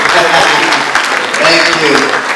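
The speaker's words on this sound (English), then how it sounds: "can we give him a round of applause?" Loud, close applause from an audience at an international business summit in Enugu, with dense clapping filling the room throughout.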